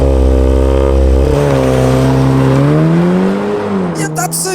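Volkswagen Golf R engine in Forza Horizon 5 held at a steady launch RPM: a loud, continuous buzzing drone that sits at one pitch, dips briefly, then creeps slightly upward before easing off near the end.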